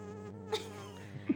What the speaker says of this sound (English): Okay, so I know it's a fly.